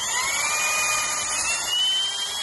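A power wire brush whirs steadily at high pitch while cleaning old black iron pipe threads before fitting a 2x1¼ reducing bushing, close and continuous, with no speech.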